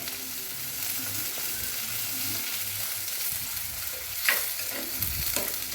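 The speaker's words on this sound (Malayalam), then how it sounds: "കറിവേപ്പില ഇടാം, പച്ചമുളക് ഇടാം." Curry leaves and green chillies frying in hot oil for a Kerala mackerel curry, a steady close sizzle with a few louder spatters and scraping stirs near the end, no talking.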